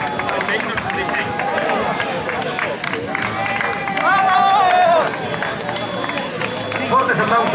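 Spectators clap and cheer at the finish line of a 2021 trail race in Ourense. Steady, fairly loud crowd applause runs throughout, with a voice talking over it.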